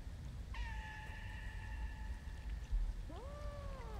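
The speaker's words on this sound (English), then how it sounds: "The fact that the meows hurt." A cat meows twice, a long steady call and then a shorter rising-falling one, heard fairly close over a low background rumble.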